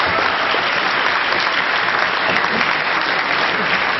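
Sustained applause from a debate audience welcoming Malay Mail Managing Editor Terence Fernandez to the stage, a dense, steady wash of many hands clapping at close range throughout, with no voices standing out.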